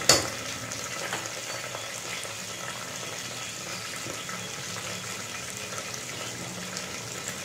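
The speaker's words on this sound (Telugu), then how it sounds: "కరేపాకు కూడా వేసేస్తున్నాను। ఇది కొంచెం చిటక లాడి ఉండాలి" Curry leaves crackle and sizzle in hot oil in a pan, a steady loud frying hiss after a sharp burst at the start, with no talking.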